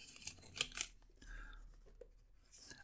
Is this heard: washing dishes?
no